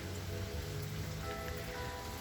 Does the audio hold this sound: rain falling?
yes